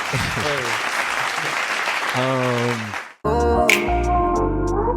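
An applause sound effect on a podcast, a burst of dense clapping mixed with voices and a musical sting, cutting out abruptly partway and giving way to music with a beat.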